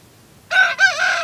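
A rooster crows loudly and close by, a single strained cock-a-doodle-doo with a brief break partway through, standing out against a quiet background.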